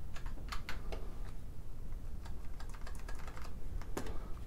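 Keys on an IBM Model M keyboard clack in quick, uneven bursts close by. The sound is faint and sharp, with no one talking.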